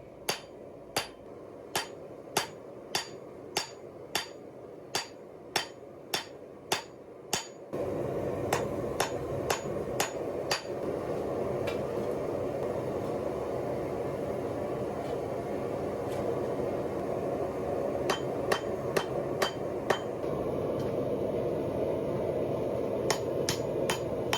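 Hammer blows forge bevels on a leaf spring spear, sharp metallic strikes in an even rhythm, first alone in a quiet shop, then over a loud steady machine hum, with later clusters of rapid hits.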